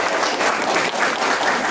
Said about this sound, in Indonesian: tepuk tangan sekali dong ya.